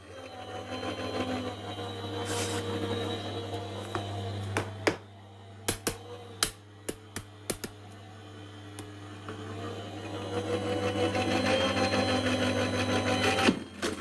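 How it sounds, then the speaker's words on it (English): A die cutting machine feeding paper pieces through for paper piecing: a steady low mechanical hum under a run of sharp clicks and snaps mid-way, with the motor droning on throughout. "I'm doing well with this new die cutting machine, aren't I?"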